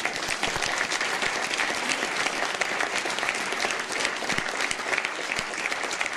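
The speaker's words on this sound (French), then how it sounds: "Vous avez pu applaudir ce soir Monsieur Christophe Dumont." A theatre audience applauds steadily throughout, a dense, continuous wash of clapping from many hands with no pauses or talk.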